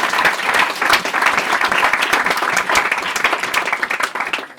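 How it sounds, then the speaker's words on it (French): An audience applauding JB at a live event, dense sustained clapping from many hands that fills the room and fades at the very end. "on peut applaudir JB aussi."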